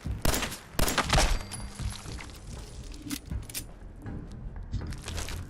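Gunfire in Fallout 4: a couple of sharp, loud shots burst out in the first seconds, then a quieter jumble of clanks and thuds fades into low background noise.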